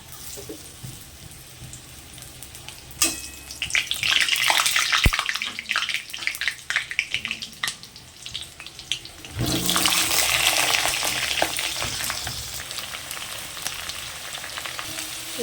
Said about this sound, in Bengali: এবার ডিমের জন্য আমি আলুটাকে ভেজে দেবো